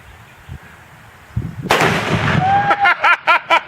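A gunshot strikes an exploding target cup and sets off a sharp, loud blast after a quiet start, followed by a voice and a burst of rapid, rhythmic shouts or laughter.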